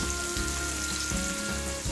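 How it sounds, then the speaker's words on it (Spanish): Onion sizzling in hot oil in a pan, a steady close bubbling hiss with faint stirring knocks, no voices. "Cuando el aceite vuelva a estar caliente, echaremos la cebolla, que sofreiremos"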